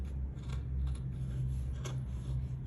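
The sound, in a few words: scissors notching fabric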